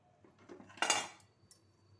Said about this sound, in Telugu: చారు గిన్నె దింపేసుకుందాం